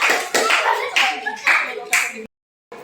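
Children in a classroom clapping together in bursts for a classmate from the art group, loud and close, ending in a brief silence.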